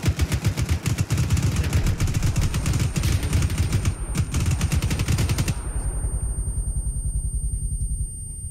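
Sustained automatic gunfire in Arma 3 co-op, a dense rapid machine-gun rattle of many close shots for about five seconds, then a long fading rumble and echo tail.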